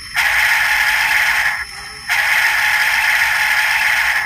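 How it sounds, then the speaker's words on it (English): A steady, hissing steam whistle from a DCC-equipped model steam locomotive blows close by in two long blasts, the second starting right after a brief gap. "Here is the whistle."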